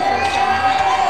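A crowd at a live signing event shouting and cheering loudly, a dense continuous roar of excited voices with shrill whoops over it.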